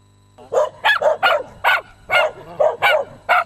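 Two dogs without a kennel barking in a steady run of sharp, loud barks, about eight in quick succession with brief gaps, close by and with no one talking.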